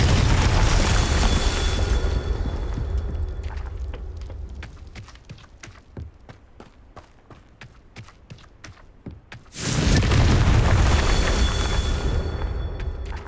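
A Confringo fire spell from Hogwarts Legacy on the Nintendo Switch, heard as a loud roaring blast that fades into a run of rapid crackling pops, followed by a second sudden heavy burst and roar.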